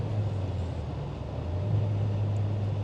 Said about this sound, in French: ça charge le turbo, ouais, ça relance.